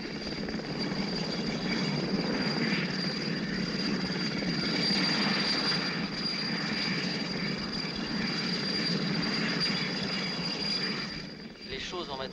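Helicopter flying low over a factory, a steady loud rotor and engine drone that holds throughout and fades slightly at the end.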